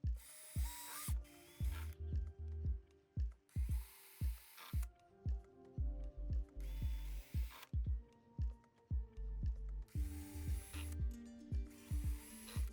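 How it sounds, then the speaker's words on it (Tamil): A power drill whirs in repeated short bursts, spinning up and stopping again and again, with clicks and pauses between each burst. "முதல்ல ரீட்ரில் பண்ணிவிட்டு அதுக்கப்புறம் ஸ்க்ரூ வச்சு இந்த பாக்ஸோட ஃபிக்ஸ் பண்ணிவிடுவேன்"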